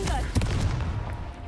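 A Confringo fire spell blast in Hogwarts Legacy: one sharp, booming burst followed by a fading crackly rumble over game ambience, with a voice faintly present.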